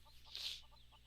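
A hen clucks in the Mabinogi video game, soft repeated clucks spaced through the moment with a brighter squawk in the middle over a steady low hum.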